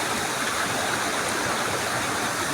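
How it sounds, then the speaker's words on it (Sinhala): A small stream of water runs beside a waterfall in a close, steady, even rush of flowing water, with no other sounds. "මේ පැත්තෙන් පොඩියට දියැලක් ගලාගෙන යනවා"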